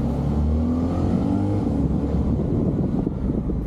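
A pricey petrol car arrives at a golf club with a loud, close engine drone, the revs rising and shifting steadily throughout with no talk.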